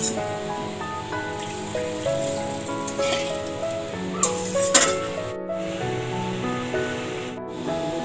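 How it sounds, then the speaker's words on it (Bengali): Snakehead fish curry gravy simmers and comes to a boil in a pot, a steady soft bubbling sizzle with a few brief clatters, heard under continuous background music. "ঝোলটি ফুটে উঠেছে।"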